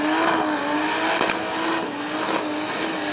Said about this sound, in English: that blown 202 with that unique whine to it